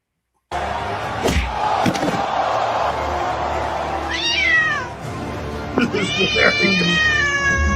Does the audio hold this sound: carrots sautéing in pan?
no